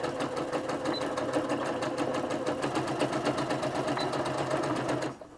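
A Singer Quantum Stylist 9960 sewing machine running steadily at moderate speed while back tacking, a fast even mechanical needle rhythm that continues unbroken for several seconds and then stops abruptly near the end.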